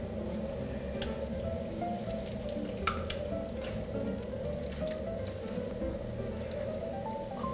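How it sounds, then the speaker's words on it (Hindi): Seekh-style Sitampuri kebabs fry in a pan of oil, a steady close bubbling sizzle with soft crackling pops, continuous and without talk. "इसको हमें ज़्यादा नहीं गोल्डन फ्राई करके करना है हमें।"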